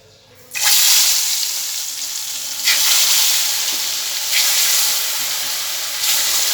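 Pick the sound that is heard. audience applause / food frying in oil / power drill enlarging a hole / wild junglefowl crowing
food frying in oil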